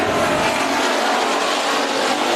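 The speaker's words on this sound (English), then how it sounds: "Hobby stocks on track for their first of the heats in contact already" Hobby stock race cars roar around the track at Bakersfield Speedway during a heat race, a loud continuous wash of engine noise with no voices.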